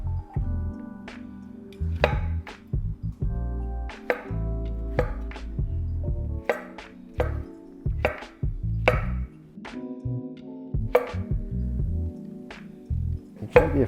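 A knife chops wild mushrooms into rough pieces about 1.5 inches across on a board, giving a steady run of close, sharp cuts with short irregular pauses and no talking.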